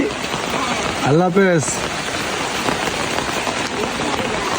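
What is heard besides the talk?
rain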